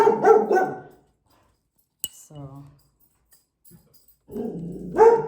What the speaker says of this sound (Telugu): మా డాగ్ డిస్టర్బ్ చేస్తుంది కదా